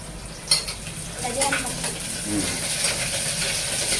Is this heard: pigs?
no